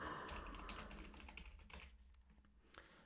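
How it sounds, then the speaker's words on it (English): A computer keyboard is typed on at close range, a quick run of soft key clicks over a low background hum, with a louder keystroke near the end. "Let's just kind of type this here."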